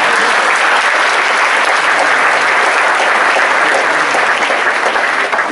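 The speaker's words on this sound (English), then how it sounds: "Yeah, you can clap for that." Steady, dense applause from a large convocation audience fills the space, loud and continuous throughout with no voices on top.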